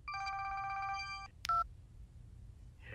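A telephone in a cartoon scene is dialed, producing a run of quick, steady keypad tones followed by a sharp click and a brief two-note beep, then quiet room tone.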